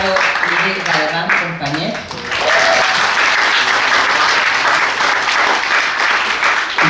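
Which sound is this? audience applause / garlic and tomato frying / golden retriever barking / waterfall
audience applause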